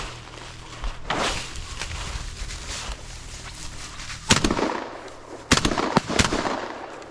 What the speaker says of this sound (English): That was not good shooting.